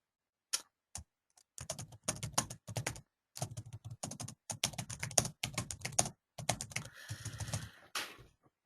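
Fingers tap steadily on a computer keyboard, bursts of close, crisp key clicks with short pauses between runs, alone with no speech.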